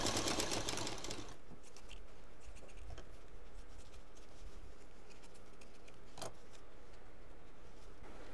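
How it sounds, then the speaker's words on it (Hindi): A sewing machine stitches a cloth shopping bag, a brief burst of fast rhythmic stitching at the start giving way to quiet handling, fabric rustles and faint clicks. "सेम प्रोसीजर में पिन लगाएंगे, सेट करेंगे, उसके बाद सिलाई करेंगे।"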